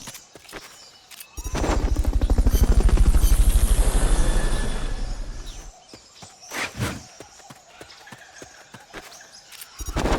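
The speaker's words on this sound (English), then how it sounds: "Recovery subject confirmed onboard helicopter." A helicopter in the Metal Gear Solid Peace Walker video game sweeps in with a loud, fast rotor chop that swells and then cuts off, followed by scattered sharp game effects and clicks.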